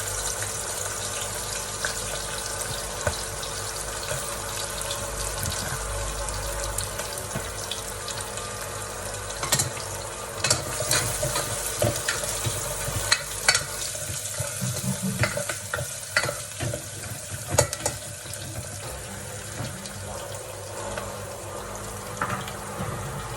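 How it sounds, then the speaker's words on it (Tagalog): Onions sizzle in hot oil inside a pressure cooker, a steady close frying hiss with occasional stirring clatter and scraping throughout, no talking. "Mainit na yung mantika. Lagay na natin ating sibuyas."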